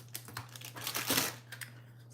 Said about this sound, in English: I gotta load my glue tape up.